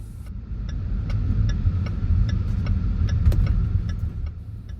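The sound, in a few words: car driving through town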